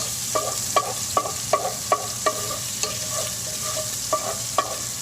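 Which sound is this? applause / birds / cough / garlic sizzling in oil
garlic sizzling in oil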